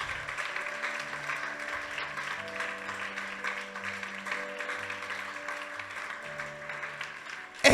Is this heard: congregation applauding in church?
yes